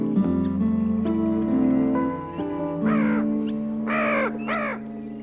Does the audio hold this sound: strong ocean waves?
no